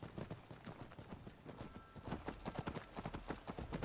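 A horse gallops in the Skyrim video game with steady, rhythmic hoof clip-clops that grow louder and faster partway through, heard alone at close range.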